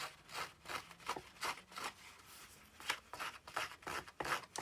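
Rapid, rhythmic scraping strokes of scissors distressing paper edges, close and fairly quiet, blades rasping along the edge over and over.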